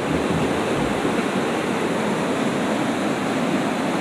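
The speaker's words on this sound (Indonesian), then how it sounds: "mulai terdengar suara gemuruh air terjun" Steady roaring rush of a waterfall beside a hiking trail toward Curug Tilu Putri at Ciwangun Indah Camp, a dense continuous wash of falling water filling the whole clip with no voices.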